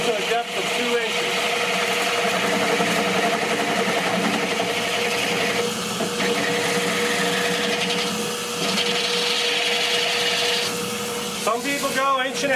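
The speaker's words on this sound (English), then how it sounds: "I'm going to drill to a depth of 2 inches." A loud drilling machine bores finger holes two inches deep into a bowling ball, grinding steadily and without a break, its pitch wavering slightly as it cuts.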